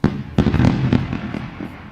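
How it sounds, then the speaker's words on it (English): Sharp firework bangs burst in quick succession, several loud cracks with crackling tails fading between them. "But we're going to run the fireworks."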